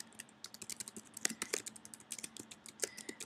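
Quick, light keystrokes on a computer keyboard come in irregular bursts, close and fairly quiet, with no talking over them.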